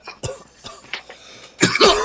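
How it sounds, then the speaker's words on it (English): Several people cough in a quick, scattered series of short, dry hacks close by, ending in a louder, harsher throat-clearing cough. "Are we having a coughing competition?"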